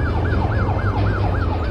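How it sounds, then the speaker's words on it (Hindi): Wailing police siren in a rope-hero police video game, a loud, steady rising-and-falling yelp cycling about every quarter second over a low engine rumble. "और ये पुलिस का सायरन बजने लगा"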